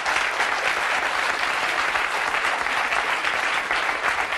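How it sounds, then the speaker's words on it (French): A French television talk-show studio audience applauds warmly, a dense, steady wall of loud clapping that holds for several seconds without a break. "Je vous demande de l'applaudir très chaleureusement."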